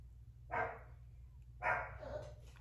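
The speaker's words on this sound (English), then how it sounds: "My dogs are going crazy." A dog barks in two short bursts about a second apart, the second trailing into softer yips, sounding close in a quiet indoor room.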